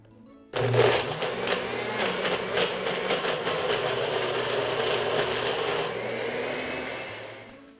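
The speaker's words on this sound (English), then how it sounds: "So it might not blend all the way on this first time" A blender runs steadily for about seven seconds, blending the ingredients for a sweet dish into a creamy mix. It grinds up loud from a quiet start and keeps a constant whir before it tapers off near the end.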